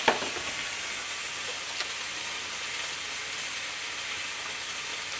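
Haggis frying in a pan with light oil and butter gives a steady, close hiss and sizzle that runs evenly throughout, after a brief clatter at the start, with no voices.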